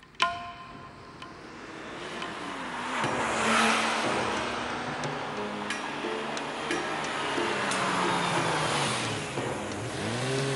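A car drives along at steady speed with road and engine noise holding through, a sharp knock at the start and a few light ticks over the rumble, with no talk.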